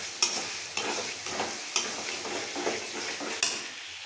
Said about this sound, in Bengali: আর মশলাটা বাজতেছি